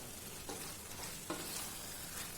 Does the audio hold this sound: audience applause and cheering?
no